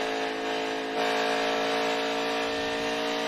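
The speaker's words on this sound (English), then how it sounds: "Listen to how much difference, if we get to ride along this far, the throttle is as another car goes slipping by." An Xfinity race car on track at Texas Motor Speedway, a sustained engine drone with strong steady tones that jumps in level partway through as the throttle opens, continuous and fairly close.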